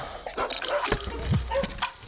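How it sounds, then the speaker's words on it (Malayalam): Neighbouring dogs bark at night in a short run of sharp yips and barks, mixed with a whine, at moderate distance under other noise. "അടുത്ത വീട്ടിലെ പട്ടികൾക്ക് ഉറക്കമില്ലേ?"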